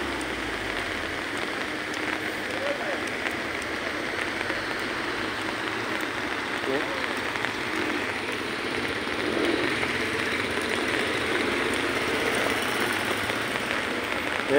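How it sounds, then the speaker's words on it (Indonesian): Vehicles push through fast-flowing flood water on a road between Semarang and Kendal, producing a steady, loud rushing wash of water that continues unbroken, with a faint engine rumble underneath. "Ini adalah penampakan kendaraan yang berhasil menerjang banjir."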